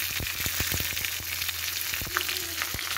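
Mustard seeds, dried red chilies and crushed garlic fry in hot tempering oil for a mango and fenugreek dal, a steady sizzle studded with sharp crackles and pops as the seeds burst.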